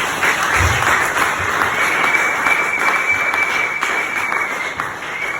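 Church congregation applauding and cheering in praise, a dense, steady wash of clapping with crowd voices that fills the whole stretch, close and loud, with a sustained tone running through the middle.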